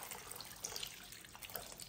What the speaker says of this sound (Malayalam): ശകലം വെള്ളം അങ്ങ് ഒഴിച്ച് കൊടുക്കുകയാണ്